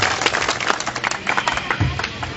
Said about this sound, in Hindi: तालियों से उनका स्वागत किया जाए।